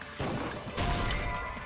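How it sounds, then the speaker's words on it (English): Glass shattering in the Danganronpa 2: Goodbye Despair video game, a sharp crash followed by a sustained, scattering ring of breaking shards, loud and close with no voices over it. "What about broken glass?"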